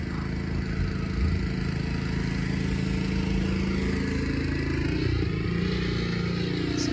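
A 1955 Chevrolet 3100 pickup with a 350 V8 idles at an outdoor classic car auction, a loud steady rumbling drone with a slight rev change near the end, close and continuous.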